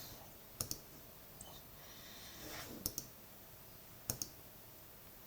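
A computer mouse clicks in sharp close double taps, three or four pairs spread out over a quiet room background with no speech.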